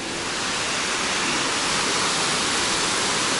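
Steady, full-bodied roar of a full-flowing summer waterfall at the Eagle Rocks on the Agura river, broad and continuous, close and loud with no breaks.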